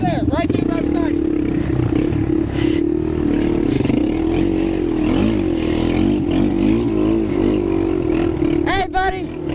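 Dirt bike engine droning steadily at high revs during a motocross race on a farm track, loud and continuous with some clatter, while voices talk over it.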